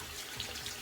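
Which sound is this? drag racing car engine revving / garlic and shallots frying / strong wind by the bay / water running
water running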